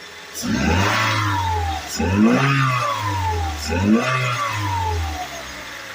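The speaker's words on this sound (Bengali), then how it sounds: "আমি যদি একটু অ্যাক্সিলেটারে পাড়া দিয়ে সাউন্ড কোয়ালিটি আপনাদেরকে আরও একটু ভালোভাবে শোনানোর চেষ্টা করি" A Toyota Hiace van's engine revs hard three times as the accelerator is pressed, each burst climbing to a high whine and then easing back toward a steady idle. The sound is loud and close, with no talk over it.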